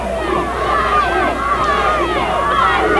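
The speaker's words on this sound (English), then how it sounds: "the rally cries go up from the partisan crowd here at Barrie North Collegiate" Partisan crowd at a 1996 high school football final at Barrie North Collegiate roars with rally cries and cheering, loud and sustained with many voices shouting together.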